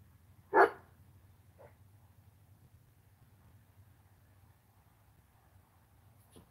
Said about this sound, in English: That's Tubi, my dog